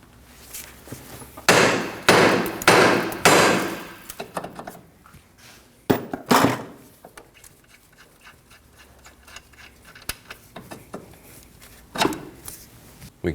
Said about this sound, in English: Now I'm going to strike the end of the knuckle with a hammer.